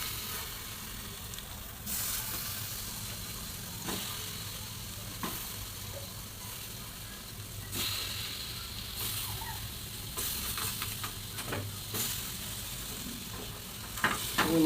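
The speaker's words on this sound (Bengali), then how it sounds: "মাছ ফ্রাই দিতেছে" Fish frying in mustard oil in a pan, a steady close sizzle with faint crackles and occasional stirring clinks running throughout, no voices.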